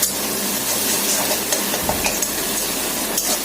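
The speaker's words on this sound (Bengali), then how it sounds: "এবার এটা আমি ভালো করে কষিয়ে নেবো" Cumin and dried chilli paste fries in a pan, a loud steady sizzle with scraping stirs scattered through it.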